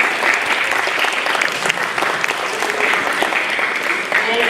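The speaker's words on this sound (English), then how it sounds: "Can we have a round of applause for them?" Audience applause at a Study in Japan information session, dense steady clapping from a room of people welcoming two presenters, sustained evenly for several seconds.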